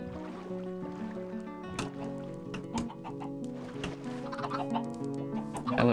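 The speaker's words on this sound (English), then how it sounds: "Hello, chickens." Chickens in the Minecraft video game cluck in quick, overlapping bursts over a sustained droning background.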